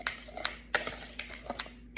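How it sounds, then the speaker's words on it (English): A whisk clinks and scrapes against a bowl while blending a dry mixture for a pumpkin recipe, several sharp, close metallic taps at an irregular rhythm. "I'm actually gonna take a whisk and just kind of whisk this together."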